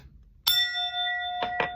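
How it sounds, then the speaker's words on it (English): A small bell rings once with a bright, lingering tone, then two quick soft taps follow while the ring keeps sustaining. "We did the little bell first."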